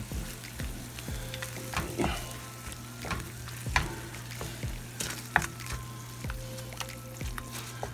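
Tomato paste is stirred in a frying pan for chicken pepperoni, a soft sizzle running steadily under repeated scraping strokes and small wet squishes, with a low constant hum beneath and no talking.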